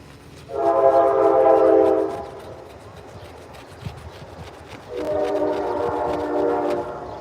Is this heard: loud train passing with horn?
yes